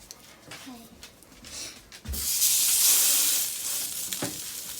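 Salmon patties hit a hot pan and break into a loud, steady sizzle halfway through, following quieter scraping and handling sounds, with a brief voice early on.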